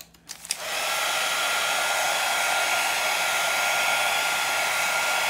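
After a few small handling clicks, a hair dryer switches on close by and blows a steady, loud, continuous roar to dry a torn paper junk journal page, with no talk.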